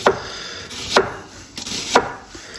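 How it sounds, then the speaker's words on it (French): A knife chops a vegetable into small slices for a Brazilian vinagrete salsa: three sharp, close cuts against a board, about one second apart, alone without talk. "je vais couper les petites tranches comme ça"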